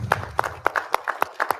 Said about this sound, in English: how about a round of applause for Laura Hefta?